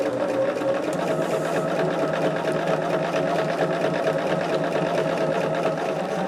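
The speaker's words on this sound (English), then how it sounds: "I am just sewing it on there" A sewing machine stitches fabric for a mini quilt project, a steady close, loud mechanical whir with a fast even rhythm running throughout without talk.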